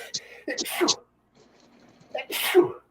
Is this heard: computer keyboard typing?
no